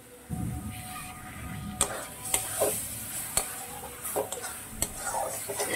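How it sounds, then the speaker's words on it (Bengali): Spinach and grated, unfried paneer sautéed in a pan for palak paneer, giving a steady close sizzle with several sharp spoon scrapes and clinks against the pan at irregular intervals, no talking. "পালংটাকে আমি এইভাবে কষিয়ে নেব"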